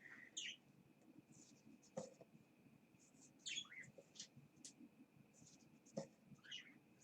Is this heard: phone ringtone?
no